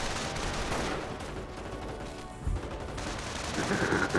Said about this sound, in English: We do have Panzer firing away, trying to hit that sniper.